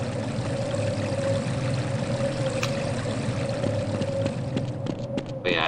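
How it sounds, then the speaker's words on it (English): A waterfall pours steadily in Half-Life: Blue Shift, a continuous rushing stream with a faint tonal hum, plus occasional small clicks and a louder knock near the end. "This waterfall-like place."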